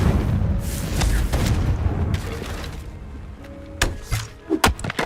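A Confringo fire spell goes off in Hogwarts Legacy, a deep rumbling boom that fades, followed by several sharp crackling impacts near the end.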